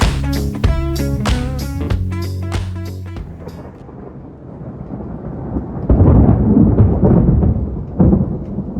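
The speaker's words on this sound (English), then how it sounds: "Yeah, I don't mess around with thunderstorms." Thunder rolls through a thunderstorm near a pop-up camper, a deep rumbling swell that builds and lingers for several seconds, rising louder toward the end, with no talking.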